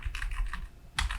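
Computer keyboard typing in two short bursts of rapid, close keystrokes separated by a brief pause, with no talking.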